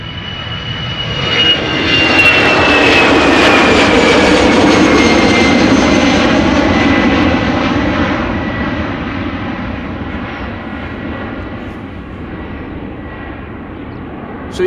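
A jet airliner takes off from Schiphol's Polderbaan runway 36L, its engine roar rising quickly to a loud sustained rumble with a descending whine, then slowly fading into the distance.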